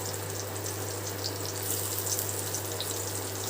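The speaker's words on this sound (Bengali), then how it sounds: "আমি আরও 2-3 মিনিট ভাজবো এগুলোকে" Raw banana koftas frying in hot oil, a steady, even sizzle with faint crackles and a low constant hum behind it, no voices.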